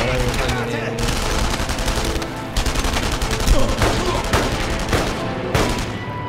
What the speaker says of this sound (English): Shot the guy like 3 times.